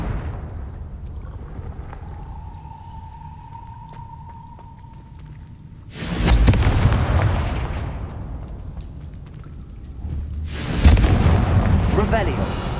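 Confringo fire-spell blasts in Hogwarts Legacy, two loud booming explosions several seconds apart, each with a long roaring decay, after a quieter stretch holding a thin steady tone.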